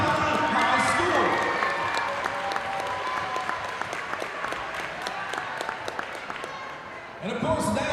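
An audience claps for students at a high school ceremony, a steady loud round of applause with scattered cheers that tapers near the end before a voice begins speaking.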